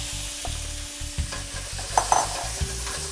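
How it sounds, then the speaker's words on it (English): Shrimp sizzle steadily in a pan over very high heat, with a dense crackling hiss and a few brief clinks and scrapes of a utensil stirring. "So I will saute my shrimp in here. That is the sound we want."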